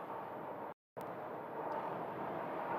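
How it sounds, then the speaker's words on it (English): A Boeing 737-900 airliner at Sky Harbor, heard as a steady broadband engine roar that holds fairly constant, with a brief dropout. "That is a 737-900."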